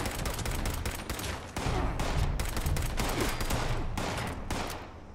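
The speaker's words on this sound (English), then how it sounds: "Oh, there's people shooting at me." Gunfire in a video game, a rapid volley of shots in bursts that keep going without pause, loud and dense from several weapons at once.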